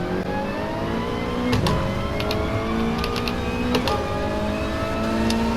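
Race car launching at Goodwood with traction control engaged, the engine rising in stepped revs through rapid gear changes, loud and close from on board, with no talking.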